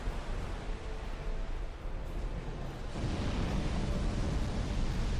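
The Old Iron King boss in Dark Souls 2 unleashes a fire attack, a loud, roaring rush of flame that swells into a heavier, sustained blast partway through, with no voices.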